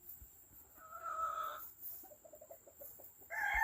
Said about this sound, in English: Look at these here hens.